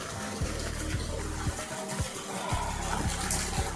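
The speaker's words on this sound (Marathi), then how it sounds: "सो आता बोर पण चालू झाला आहे आणि बघू आपण पाणी किती आलं आहे" Water gushes from a running borewell pump on a farm, a steady close rushing wash broken by regular low thumps about every half second, with no talking.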